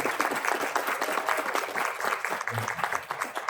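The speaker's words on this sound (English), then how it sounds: "an extra special applause to Arm Alice" Audience at a Philly Fashion Week industry panel applauds a panelist, dense steady clapping from many hands that stays sustained throughout without pause.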